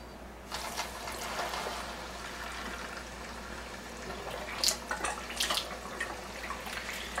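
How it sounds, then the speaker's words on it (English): Water running through a Kangen water machine to clear calcium, a steady close hiss and trickle of flowing water with a few brighter splashy bursts near the end. "I'm just going to go ahead and run water through it to clear out any calcium that may be floating inside the machine."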